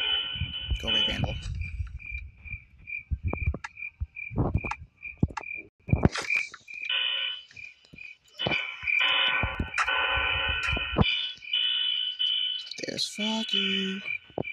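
A frog croaking in a night-time video game, heard as a steady series of evenly spaced high chirps that runs through the clip under and between bursts of a person talking.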